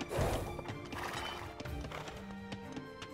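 A horse in an Age of Empires II multiplayer match trots with quick clip-clopping hooves amid busy in-game battle clatter.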